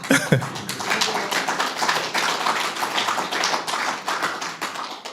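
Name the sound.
audience applause for UPF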